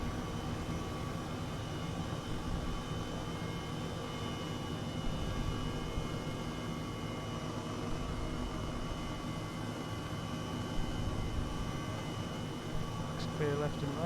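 An H135 helicopter in Microsoft Flight Simulator spooling up for takeoff from Wick airport: a constant droning turbine hum with steady tonal whine, heard under a low voice.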